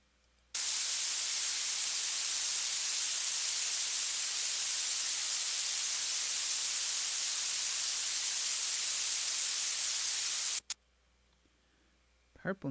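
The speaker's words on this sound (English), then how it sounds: "Yes, quite the high frequency hiss." Purple noise: a steady, bright hiss fills about ten seconds, loud and unchanging, weighted toward the high end, then cuts off abruptly into near silence.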